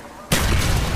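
A frag grenade explodes in a competitive multiplayer shooter match, a sudden loud blast after a quieter moment, then a sustained rumbling roar of debris and noise.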